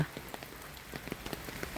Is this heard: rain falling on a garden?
yes